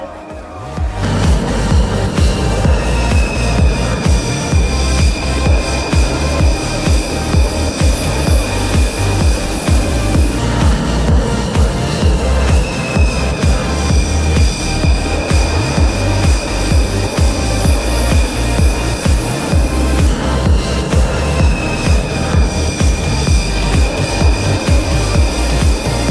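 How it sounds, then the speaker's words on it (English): A Rafale fighter jet flies at the Aero India airshow, producing a loud, continuous engine roar that holds steady for the whole stretch, with faint whines rising and falling through it. "I've come here to see the Rafale fly."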